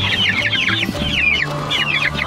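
Young chicks cheep and cluck in quick, high chirping bursts, several birds calling close by in a lively, overlapping chatter.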